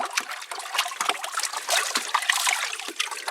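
Water pours from a container outdoors into a drinking spot for animals, a steady close trickle and splatter with small splashes running throughout, no voices.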